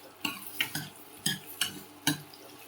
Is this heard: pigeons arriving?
no